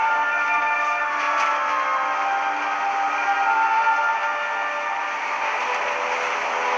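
Steady, loud rumbling drone of a train running in a video game, with layered mechanical hums holding constant throughout and no voices.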